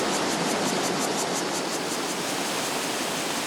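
Nanshih Creek rushes over fallen rocks in a forest, a constant loud broadband roar of flowing water with no other sounds.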